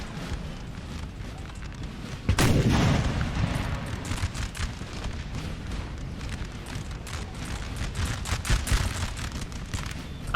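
Battlefield din in Napoleonic Total War 3, a 4v4 fight, with a sharp booming artillery blast early on over a continuous rumble of distant cannon and musket fire.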